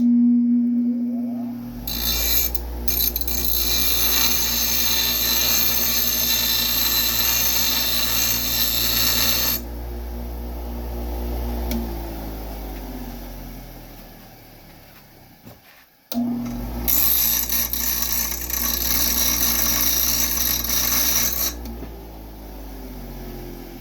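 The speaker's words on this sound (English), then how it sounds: "I'm gonna have to grind some of this piece off here" An angle grinder grinding a metal piece on a 1957 Chevy 210, a loud, sustained high whine in two long bursts, separated by a quieter gap and a brief stop, with no talking.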